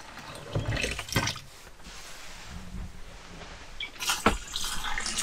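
Warm water is poured into a container during spring cleaning of a camper's water system, a moderate close splashing and gurgling flow with a few louder bursts and clunks.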